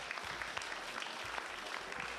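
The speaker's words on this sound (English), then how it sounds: "Let's clap it up for them." Faint, steady applause from a school assembly crowd clapping for the girls' and boys' riflery teams, a soft continuous patter heard from a distance.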